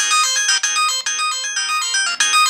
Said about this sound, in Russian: вот такие мелодии в нашем Самсунге